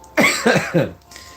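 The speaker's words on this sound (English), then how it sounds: "I started getting a cough." Three quick, harsh coughs in a row, close and loud, followed by a faint breath.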